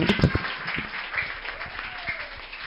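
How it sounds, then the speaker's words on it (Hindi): A small audience at an education centre claps in scattered, uneven bursts, loudest at the start and then thinning out, with faint voices underneath. "इनके लिए तालियां बजाओ भाई।"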